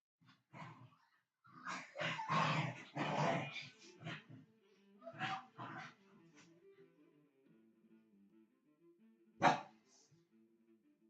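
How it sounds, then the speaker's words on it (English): A dog yelps, growls and barks in bursts while a boy plays with it nearby, the sounds fairly soft and irregular with a sharp bark near the end. "You see some noise, it's my son playing with the dog."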